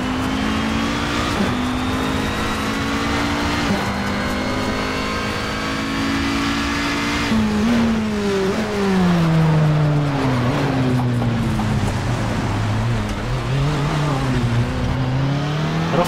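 In Project CARS, a race car engine drones at steady high revs, then shifts and swoops up and down through a corner as the tires squeal, loud and close throughout.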